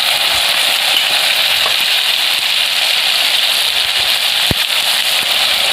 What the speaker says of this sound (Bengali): টমেটোটা দিয়ে দিয়েছি, ভালো করে ভেজে নেব